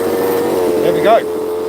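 A Zenoah 32cc gas engine in an RC boat hums steadily in the background, with fresh fuel lines fitted. Someone talks loudly over the constant droning tone.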